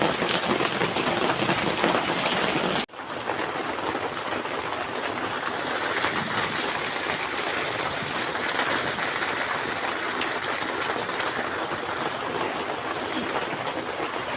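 Steady rain falls at Sampaloc Lake in San Pablo City during a fishing outing, a dense, continuous hiss close around the listener with one brief dropout near the start.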